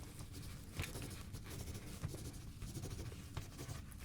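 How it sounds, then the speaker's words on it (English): A pen scratches across paper while test results are written down during an ASMR medical exam roleplay, producing soft, close, intermittent strokes. "I'm just gonna go ahead and write down your"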